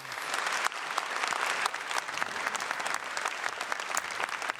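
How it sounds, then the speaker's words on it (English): A studio audience applauds the candidates at the fourth debate of the 2017 NDP leadership race in St. John's, with steady dense clapping that holds evenly throughout, close and full, with no talk over it. "Audience, now how about a round of applause for our candidates?"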